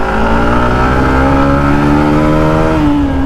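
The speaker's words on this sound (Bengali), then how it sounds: "এই থ্রোটল পজিশন সেন্সর চেক করার জন্য আমরা এখন বাইকটিতে 0 to 60 স্পিড তুলব।" A Hero Thriller 160R motorcycle engine revs up steadily as it accelerates from 0 to 60, its tone rising in pitch, loud, close and continuous, with no voices.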